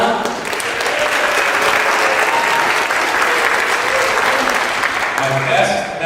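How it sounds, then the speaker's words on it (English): Audience applause for the bass singer of a gospel quartet during on-stage introductions at a concert, a steady, dense clapping roar from a large crowd that holds loud for about six seconds. "Let's hear it for Rob"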